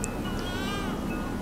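A baby's thin, wavering cry rises and falls once over steady background noise, sounding somewhat like a cat's meow.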